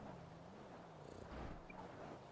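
Soft, steady cat purring in a roleplay video game, a low continuous rumble, faint and close, with no speech over it.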